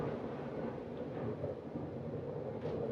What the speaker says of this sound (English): Just had lightning strike rather close.